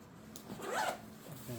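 A zipper on a rifle case is pulled in one quick, close rasping stroke, with a voice briefly heard around it.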